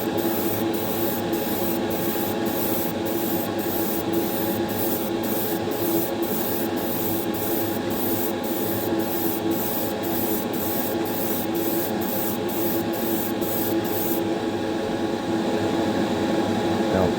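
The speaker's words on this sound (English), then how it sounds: "you have to be super consistent with spraying them." Clear coat sprayed from a can onto a Hot Wheels custom car, a continuous close hiss that runs steadily throughout, with a faint regular ticking in the background.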